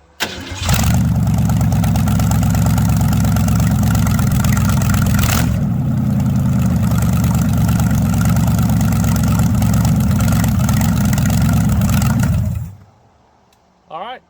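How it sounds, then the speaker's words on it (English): A circa-1931 Ford roadster engine cranks, catches and runs at a steady, loud idle for about twelve seconds before shutting off. "Now we're going to fire the engine up."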